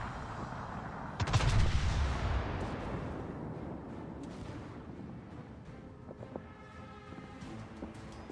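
A single heavy naval gun salvo from a battleship in the World of Warships game booms out, then a long rumbling tail fades away, followed by faint scattered distant shots.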